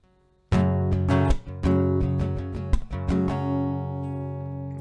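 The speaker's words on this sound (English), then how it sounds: "So the full strumming pattern will sound like this." Steel-string acoustic guitar strummed in a down, down, up, muted-clap, down pattern, with bright ringing chords and a sharp percussive chop partway through, close and loud with no talking.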